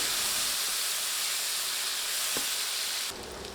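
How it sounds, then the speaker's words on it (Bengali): Chopped onions fry in oil, a dense steady hiss that drops suddenly quieter near the end, with one faint scrape in between. "এখন নেড়ে নেড়ে পেঁয়াজ ভেজে নিতে হবে"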